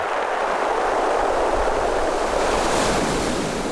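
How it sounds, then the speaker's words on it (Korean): Waves break and wash over egg- to fist-sized pebbles on Jinsan-ri beach, Cheongsando island, a loud, continuous roaring hiss of surf with some wind, no voices. "갯돌이 파도에 부딪히며 내는 맑은 소리는 어떤 음악보다도 아름답습니다."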